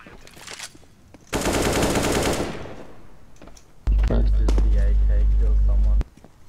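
Bursts of automatic AK rifle fire in Counter-Strike: Global Offensive, a long sustained volley followed by a second loud burst, with a player's voice talking over the game.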